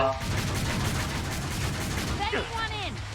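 Gunfire rattles in rapid bursts throughout Killing Floor 2 gameplay, a dense continuous volley that keeps going under a faint voice near the end.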